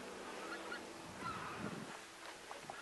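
Speckle-belly geese call faintly in the distance, a few scattered honks over a steady soft background wash, with no voices.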